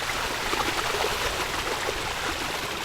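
Floodwaters of a swollen river at Angono, Rizal rush past in a steady, dense broadband roar, loud and close, holding constant throughout with no voices.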